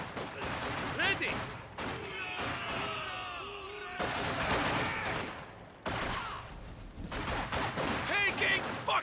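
Battle gunfire in the World War II strategy game Company of Heroes 2, bursts of rifle and machine-gun fire crackling over soldiers' shouted voices and a rumbling battlefield background.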